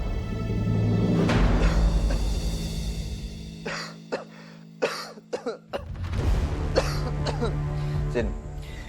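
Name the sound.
coughing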